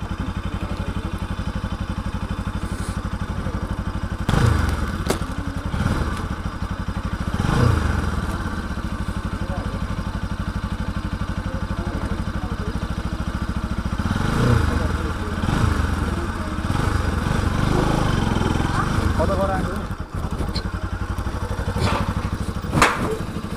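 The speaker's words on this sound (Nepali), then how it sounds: "यो सेकेन्ड टाइम हो मैले बाइक लिएर पुल तर्न लाग्यो" A motorcycle engine drones steadily as the bike crosses a bridge on a ride from Pokhara to Baglung, with occasional clunks and thuds from the deck. The rider talks over the continuous engine noise.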